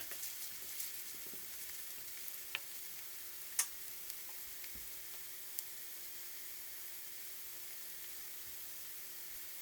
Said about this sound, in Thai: น้ำมันฮ้อนแล้วเขาก็สิเอาหอมมาลงเลย